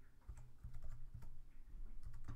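Quiet, close typing on a computer keyboard, irregular bursts of key clicks with short pauses, no talking.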